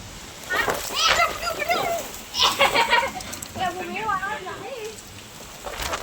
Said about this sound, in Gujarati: વરસાદ ચાલુ થઈ ગયો ભાઈ, વરસાદ ચાલુ થઈ ગયો